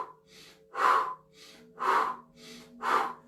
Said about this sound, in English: nice deep breaths in through the nose